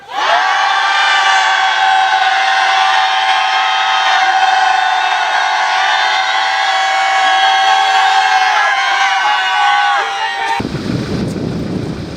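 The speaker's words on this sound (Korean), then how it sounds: "마음을 담아서 함성 시작!" At a Korean protest rally, a large crowd lets out a long, sustained, loud shout that holds steady for about ten seconds, then breaks off abruptly into a rougher burst of noise.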